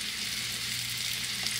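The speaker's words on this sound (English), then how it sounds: "And let it sizzle." Pork chops fry in a hot pan with a steady, close hiss of crackling fat, continuous and unbroken, with no talk.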